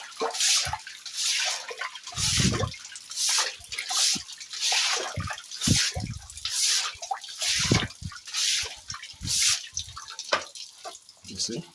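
Manure water from a cleaned goat pen drains out through a pipe to the garden, a steady gurgling, splashing flow with dripping, heard up close while someone talks.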